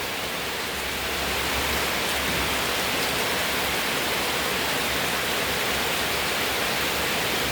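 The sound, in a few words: heavy rain falling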